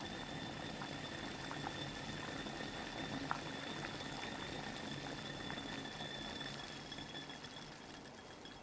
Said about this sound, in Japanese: 今回は1分程度そのまま沸騰させ続けて少しアルコールを飛ばしていきます